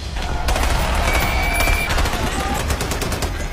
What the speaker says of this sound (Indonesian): Dan di sisi lain, skuad Sersan Eversman mulai menurunkan serdadunya tepat di antara amuk peluru di tengah jalan ini